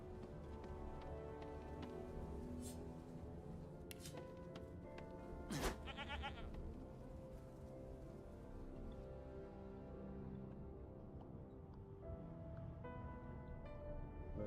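Sheep bleating in the video game Divinity 2, a few tonal bleats rising over a dense continuous game soundtrack and ambient noise, with one louder sharp call midway.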